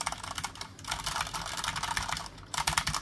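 Typing on an AOC AGK700 gaming keyboard with clicky keys, a steady close-up patter of keystrokes with a brief lull before a final burst.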